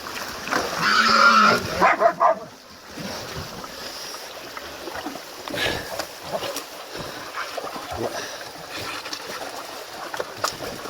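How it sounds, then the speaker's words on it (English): Hunting dogs bark and move about outdoors during a pig hunt, with sharp barks in the first two seconds, then scattered rustling and movement over wind and background noise. "Dog's done a good job."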